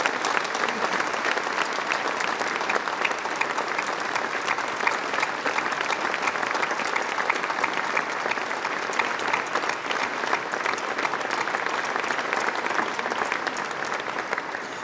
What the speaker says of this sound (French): je vous demanderai pour leur rendre hommage d'applaudir les 4 fondateurs du Grand Dax